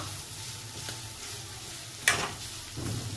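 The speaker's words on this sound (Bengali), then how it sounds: "এখানে হচ্ছে ভাজা ভুজি, এটা ফ্রাই হোক" Steady, close sizzle of vegetables frying in a wok for fried rice, with a sharp scrape or clank of a utensil about two-thirds through.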